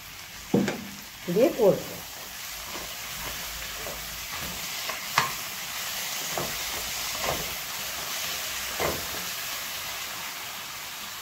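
Rohu fish head fries in well-cooked spiced masala with oil separating, a steady hiss broken by loud scraping stirs and sputtering bursts near the start, close by, with a brief voice speaking over it.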